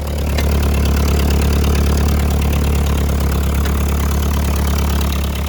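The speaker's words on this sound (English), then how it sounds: "Tractor's running good." A restored Ford 8N tractor engine idles steadily, a close, loud continuous rumble with an even mechanical throb throughout and no talk.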